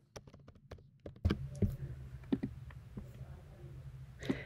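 Quick typing on a computer keyboard, with irregular bursts of close, crisp key clicks and a few louder taps over a faint background hum.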